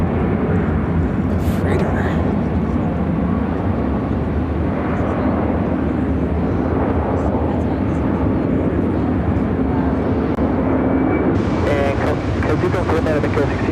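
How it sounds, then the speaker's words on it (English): An Airbus A330-200 cargo freighter takes off at Chicago O'Hare, a continuous heavy engine rumble mixed with wind buffeting on the microphone, with a person talking over it. "Cargo 6551 taking off to Atlanta on the A330-200 freighter"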